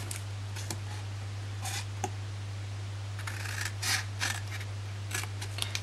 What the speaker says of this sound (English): we're just going to cut off the 4 end rectangles that we have made